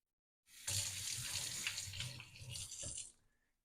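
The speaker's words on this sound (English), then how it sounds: "Just going to rinse off my hand" A kitchen faucet runs for a few seconds while a hand is rinsed under it, a close, steady splashing gush that starts abruptly and cuts off, with no talking.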